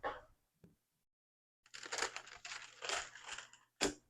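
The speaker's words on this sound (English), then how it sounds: "Sorry for all the noise that this parchment paper is making." Parchment paper crinkles and crushes on a heat press during an iron-on vinyl project, with a short rustle at the start and then a longer stretch of loud, close crackling bursts ending in one sharp crunch.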